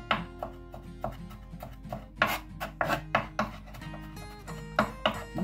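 A knife finely chops garlic on a board for hake and prawn meatballs, making quick, irregular taps that land close and crisp over a soft musical background.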